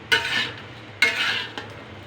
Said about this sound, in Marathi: हे पहा मित्रांनो आपल्या मस्त अशा मिरच्या भाजल्या जातात